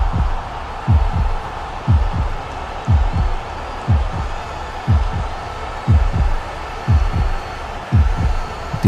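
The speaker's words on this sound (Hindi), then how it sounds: "दिल की धड़कनें यहां तक सुनाई दे रही है" Thumping heartbeat effect, about ten to eleven regular double beats, played loud and steady over a low hum and faint crowd noise during an LBW review in an IPL cricket match between Chennai Super Kings and Punjab Kings.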